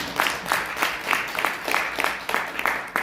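Delegates at an association general meeting applaud to approve a new chairman, a fairly small group clapping steadily and unevenly for a few seconds, moderately close.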